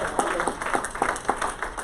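An audience at a community credit union live event claps in brief, uneven bursts, a light smattering of applause over a roomy background with faint voices.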